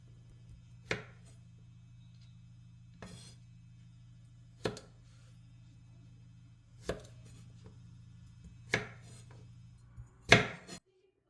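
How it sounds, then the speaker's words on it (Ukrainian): Carrot being chopped into pieces on a board: six sharp knife strikes spaced a second or two apart, close and distinct over a steady low hum, the last one a quick double chop. "Одну моркву середнього розміру чистимо та нарізаємо довільними шматочками"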